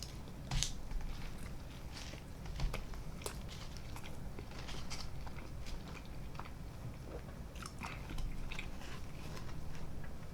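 Someone eats a hefty McDonald's burger close up, with quiet, repeated bites and soft chewing sounds over a low, steady background.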